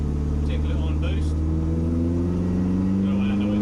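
A twin turbo Ford Fiesta engine hums and rises steadily under boost from inside the car, a loud continuous drone with a few faint chirps above it.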